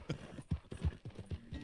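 Horse hooves clip-clopping in Red Dead Redemption 2, a quiet, uneven series of soft thuds at a walking or trotting pace, heard alone without talk.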